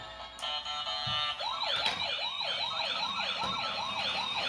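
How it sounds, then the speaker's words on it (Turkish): A toy ambulance with flashing lights plays a loud, repeating wailing siren, its warbling tone rising and falling steadily and close by, with no one talking over it. "Şimdi ışıklı ambulans gelebilir mi? Işıklı ambulans da geliyor."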